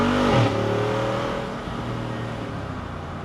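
A Jeep Wrangler 392 V8 engine revs hard off-road, loud and close, then settles into a steady drone as the pull continues.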